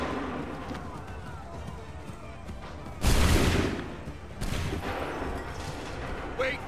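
A musket volley booms out in the video game Assassin's Creed III at the Lexington and Concord battle, a sudden loud burst of massed gunfire that rolls on, then a second wave, over a noisy battlefield bed with shouted commands.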